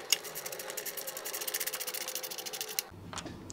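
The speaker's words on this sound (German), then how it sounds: "Dann schrauben wir es auch direkt wieder fest." Rapid, even clicking of a finger ratchet as it tightens a screw on a moped tail light, a steady buzzing run of small ticks for nearly three seconds, then a brief clunk and a couple of softer knocks.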